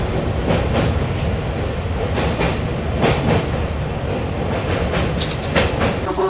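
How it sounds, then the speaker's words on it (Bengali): The Kanchankanya Express, on its Kolkata to Cooch Behar run, rolls along the tracks just after leaving Dakshineswar station, giving a steady, loud, close rumble of wheels and carriage with faint rhythmic clatter throughout. "নির্ধারিত সময় থেকে 5 মিনিট লেটে আমাদের ট্রেন দক্ষিণেশ্বর স্টেশন থেকে ছেড়ে দিল।"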